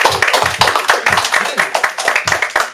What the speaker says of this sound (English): Can we get a round of applause to the Dad